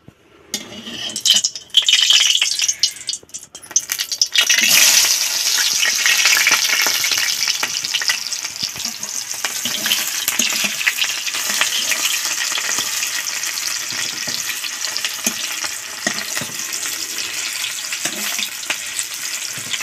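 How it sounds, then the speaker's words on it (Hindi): Hot oil sizzling loudly in a frying pan, a dense steady hiss that swells after a few seconds of clatter and spits, continuing close and unbroken with faint crackles, no speech. "भुनभुना उठ रहा है।"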